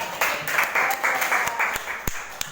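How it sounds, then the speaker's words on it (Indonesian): A class gives a short burst of lively applause, with scattered claps and a few voices, ending in single claps. "tepuk tangan Ustazah."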